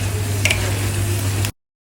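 Food fries in hot oil in a pan while soto is being prepared, a steady close sizzle with a brief stirring scrape before it cuts off.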